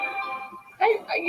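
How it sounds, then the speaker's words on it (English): A mobile phone gives short electronic beeps that come in two quick bursts under faint background noise. "someone's phone is just beeping"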